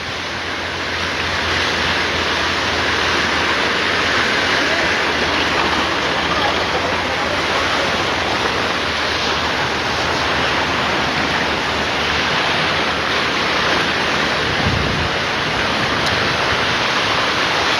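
Strong floodwater rushes steadily past a village road, a loud, broad continuous roar with no pause, heard close by throughout.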